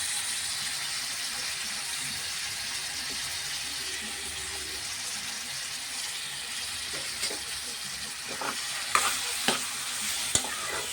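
Chana dal and tomatoes frying in a pan give a continuous sizzle, with stirring scrapes growing louder near the end and no speech.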